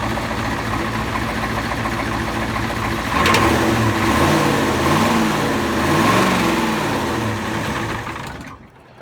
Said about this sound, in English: Let me rev it up.